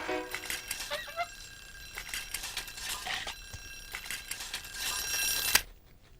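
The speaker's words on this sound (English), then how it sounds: "There goes my alarm to remind me." Honking reminder alarm going off, a repeated nasal goose-like honk with bell-like rings and rapid bursts, loud and close, cutting off abruptly at the end.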